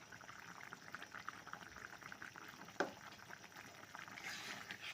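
Potatoes boiling in a pot on a gas stove make a faint, steady bubbling with a soft watery hiss and one brief clink partway through.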